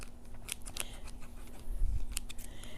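Scissors snip through wrapped yarn on a Boye pom pom maker, giving close, crisp clusters of cuts with short pauses between them.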